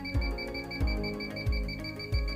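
An INFICON D-TEK 3 refrigerant leak detector beeps steadily at a quick idle rate, four short tones spaced evenly about two-thirds of a second apart, close and clear.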